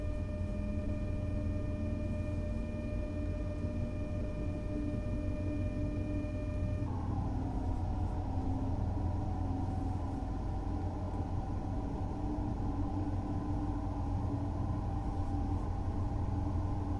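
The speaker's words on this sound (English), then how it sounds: "As the train accelerates, you can apply more power as needed." A train in Train Sim World 5 pulls away on rails with a steady low rumble and drone, while a set of tonal whines holds level, then steps down near seven seconds and continues, loud and even throughout.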